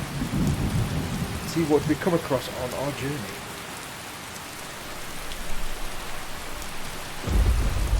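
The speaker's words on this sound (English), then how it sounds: "Do let me know if thunder and lightning gets annoying for you, the rain sound" Steady rainfall with rolling thunder in a Skyrim game world, a heavy wash of rain throughout and low rumbles that fade and return, with someone briefly talking over it.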